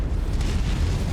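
A mech's ammunition store detonates in the MechWarrior 5 video game, a dense, rumbling boom that sustains heavy low-end roar for about a second without a sharp onset, with no talk over it.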